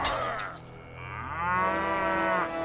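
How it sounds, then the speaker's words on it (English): A cow moos loudly and close, a long drawn-out lowing call that swells in the middle and then trails off, heard alone with no talking. "The video had to have added that moo sound"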